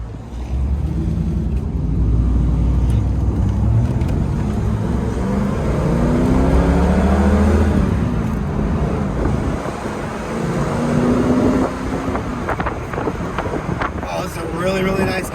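A 1994 Ford Mustang cruises along the road, its engine droning low and steady with tire roar and wind buffeting the microphone, while someone talks over it from inside the car.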